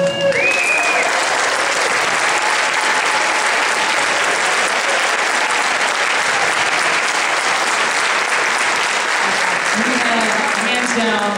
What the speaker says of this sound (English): would you stand up please for a round of applause for our wonderful alumni?